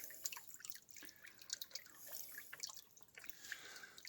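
A faint trickle of water drips from a crack in rock, the small irregular drops and plinks falling close by in a quiet outdoor setting, with no talking.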